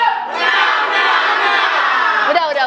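At a presidential debate event, a large crowd roars and cheers in one loud, sustained wall of shouting voices for nearly three seconds, with no pause.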